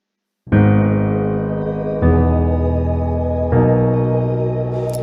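Piano chords layered with sustained synth pads sound alone after a short silence, three long held chords entering in turn and swelling warmly into a full, even mid-range.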